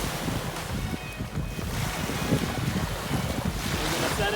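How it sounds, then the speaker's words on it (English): Ocean waves wash continuously on a beach with a rough, broadband roar and strong wind buffeting the microphone, loud and close, with no talk. "We got some waves out here"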